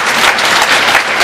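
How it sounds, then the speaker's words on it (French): Short burst of loud, close audience applause at an equestrian arena inauguration in Périgord, dense and continuous clapping from a crowd throughout. "Je veux demander d'applaudir Mathilde."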